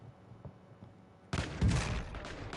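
Gunfire in Warzone 2.0 bursts in after a quiet stretch of faint ambient thuds, a loud rapid fusillade of shots that carries on to the end without talk.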